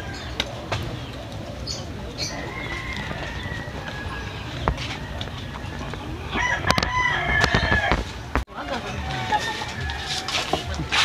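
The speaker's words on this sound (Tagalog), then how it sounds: "Ito nga pala yung pangsabong ni Lolo." A fighting rooster raised for cockfighting crows in a rural Filipino yard, with several crowing calls rising over steady outdoor background noise and people talking nearby.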